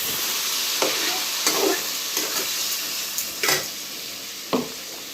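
Prawns frying with mustard paste in a pan for chingri macher kancha jhal, a bright continuous sizzle punctuated by several distinct spatula knocks and stirs, close and fairly loud.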